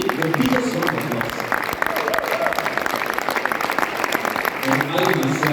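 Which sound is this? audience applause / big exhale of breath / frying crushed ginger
audience applause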